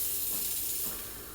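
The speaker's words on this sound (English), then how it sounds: "you want to position the steam wand sort of at an angle and keep the milk spinning. That's how you get steamed milk." Breville Barista Express BES870 espresso machine steam wand steaming milk in a jug, a steady loud airy hiss that fades slightly toward the end, no talk.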